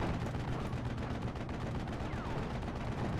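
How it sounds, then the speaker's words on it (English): A .50 cal machine gun fires during a Steel Division: Normandy 44 battle, a constant dense crackle of rapid gunfire and distant battle noise that stays steady and fairly faint throughout. "50 cal here, going to be hitting these rifles in the center hard."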